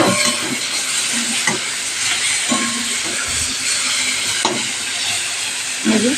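Prawns fry in oil with a continuous close hiss and sizzle, broken by occasional clinks and scrapes of a spatula in the pan.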